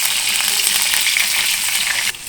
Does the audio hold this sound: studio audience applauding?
no